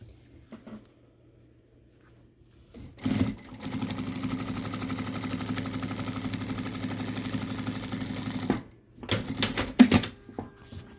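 Sewing machine stitching on quilted fabric, with one sustained run of rapid mechanical stitching for about five seconds, then a few short bursts of a backstitch.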